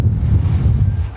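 Wind buffets the microphone at a downhill mountain bike race course at Loudenvielle Peyragudes, a steady low roar that fills the whole moment with no voices.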